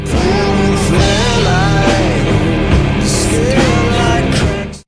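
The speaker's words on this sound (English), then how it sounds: "Listen to that tuning. It's tuned down so low it sounds like the guitar strings are made of concrete." A heavy, down-tuned electric guitar track grinding loud and sustained, with a vocal line over the dense low riff.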